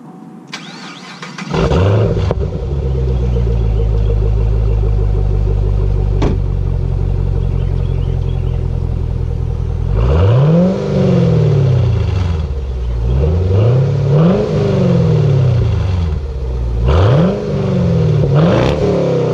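A 2010 Chevrolet Camaro SS V8 cranks and fires up loudly, settles into a steady idle, then gives several rising and falling revs, heard close with no talking.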